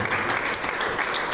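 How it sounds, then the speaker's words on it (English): Audience applause at a candlelight AIDS vigil in Columbus, Georgia, honoring Mayor Tomlinson: a dense, steady wash of many hands clapping at once, fairly loud and continuous throughout, with no speech over it. "let's give Mayor Tomlinson a big round of applause for her service to the city and her fight against HIV and AIDS"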